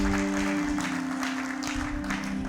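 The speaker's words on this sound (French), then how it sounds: "Acclamons pour la gloire de notre Dieu." A church congregation applauding in praise during a French-language sermon: steady, moderately distant clapping from many hands, with a sustained organ or keyboard tone underneath.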